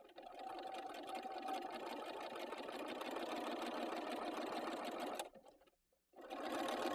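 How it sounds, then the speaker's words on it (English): A sewing machine runs steadily as it stitches down the middle of a narrow strip of stable T-shirt knit fabric. The whirring stays loud and close for about five seconds, stops for a moment, then starts up again. "I'm just going to stitch right down the middle of it."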